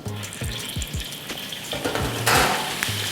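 Steady crackling sizzle of hot oil with brief bubbling bursts as a whole cornstarch-dusted fish fries, a close frying sound with no talking.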